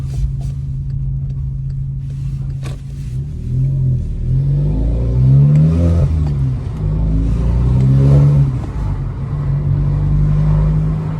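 A VW Scirocco 1.4 TSI Twincharge with the rear exhaust silencer removed idles with a deep, boomy rumble, then revs up twice in swelling bursts before settling back to a steady low drone.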